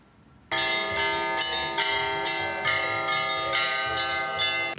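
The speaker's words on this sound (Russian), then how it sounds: "Праздничный звон наполняет хутор Старозолотовский." Festive church bells peal repeatedly at an arts festival in a Don river village, several bells struck in a steady rhythm, loud and close and ringing alone after a sudden start.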